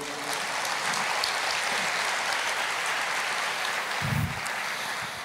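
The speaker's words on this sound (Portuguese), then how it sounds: "Você pode aplaudir o Senhor." Applause from a church congregation during a sermon on the name of Jesus, a dense, steady roar of clapping filling the whole clip, with a brief low thump near the end.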